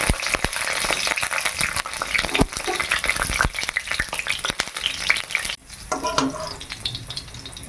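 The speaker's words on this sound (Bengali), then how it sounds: "তেল গরম হয়ে গেছে কাঁচা লঙ্কা আর একটু কালো জিরা দিয়ে দিলাম" Green chillies and black cumin seeds hit hot oil in a home kitchen, bursting into loud, crackling sizzle with sharp pops, then settling into a softer, steady frying hiss after a few seconds.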